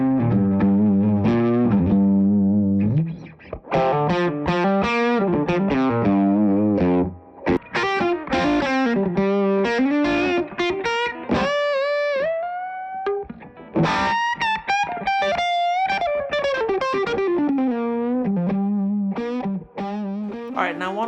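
A modified Gibson ES-339 electric guitar plays a continuous run of chords and single-note lines, loud and alone, with a thick overdriven tone.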